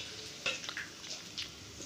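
Fish fries in oil with a faint, quiet sizzle, broken by a few light clicks and scrapes as the pieces are turned, heard close with no talk.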